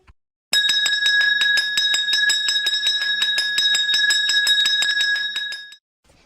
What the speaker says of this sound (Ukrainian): Дзвоником називається, чудовим дзвоном розливається